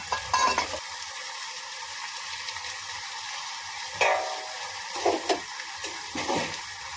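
Chopped tomatoes cook in a katla fish curry, giving a steady close simmer and sizzle with a few louder stirring and splashing bursts, and no voices.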